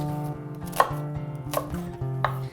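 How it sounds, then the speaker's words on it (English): A knife chops celery and onion on a cutting board: three sharp, separate chops spaced across the stretch, over steady background music. "And then slice the celery down the middle"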